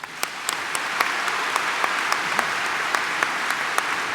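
A conference audience gives a steady round of applause to accept a report, a dense even patter of many hands with a few sharper claps standing out, moderately distant and with no talking over it.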